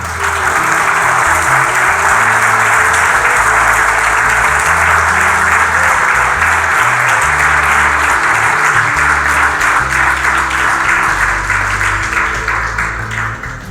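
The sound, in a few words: applause in a church sermon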